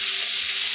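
Bacon for carbonara sizzles steadily in a hot pan, a continuous close, bright frying hiss with no pauses and no talk.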